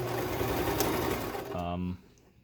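A sewing machine runs a simple seam on a fabric cover for a round Amtgard shield. Its motor whirs steadily and then sputters into short bursts of stitching before stopping, with someone talking over it.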